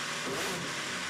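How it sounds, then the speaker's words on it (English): The race-leading car 7 at the 2017 24 Hours of Le Mans, in trouble with no gears and crawling slowly through the lap, gives off a steady, loud, unbroken engine drone without revving changes. "Listen to the engine."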